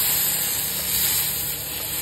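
Hot oil tempering poured into a mung dal and ponnaganti greens curry gives a broad, steady hissing sizzle, fairly loud and close, continuous for a couple of seconds with no talking.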